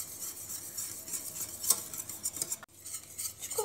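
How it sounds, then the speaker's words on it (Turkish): A spoon scrapes and clinks against a pot while chocolate pudding cream is stirred, faint close strokes with a sharper metallic tap midway, no voices. "Bu sebepten dolayı sık sık karıştırmamız gerekiyor bu şekilde. Soğuyana kadar karıştıralım."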